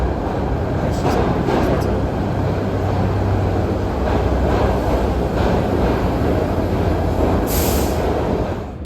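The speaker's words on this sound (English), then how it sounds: "after about 10 minutes, our Spur train showed up." A Broad-Ridge Spur subway train in Philadelphia rumbles steadily alongside a platform, a continuous loud roar with a brief high squeal near the end.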